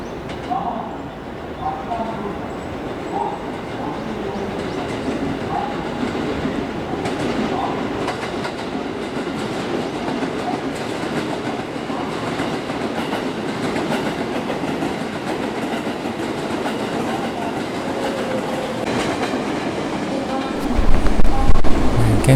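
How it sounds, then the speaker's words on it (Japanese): Trains rumble and clatter steadily through Shin-Osaka Station in early morning, wheels clacking on rails with a constant low roar, growing louder and heavier near the end. "たくさんの電車が移動しています"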